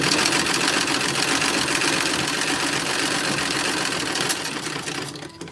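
An antique 1907 sewing machine runs steadily while stitching a baby romper, a continuous close whirring drone that slows and stops near the end.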